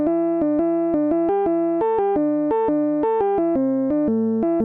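Synthesized lead guitar solo run through an Archetype Petrucci amp simulator, playing a clean, choppy melodic line of short repeated notes that step up and down in pitch.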